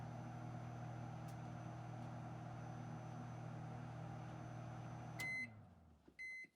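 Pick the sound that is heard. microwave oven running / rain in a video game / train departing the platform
microwave oven running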